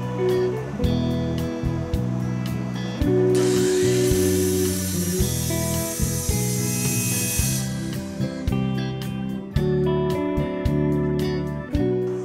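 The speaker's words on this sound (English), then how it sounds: "back over to my miter saw to trim this one to length" A miter saw trims a wooden board to length, with a loud, steady whine through a single sustained cut that stands alone with no talking.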